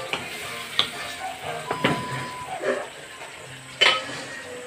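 Sardines stirred in a frying pan, with a few distinct scraping strokes and sharp metallic clinks of a utensil against the pan over a faint sizzle, close and unhurried.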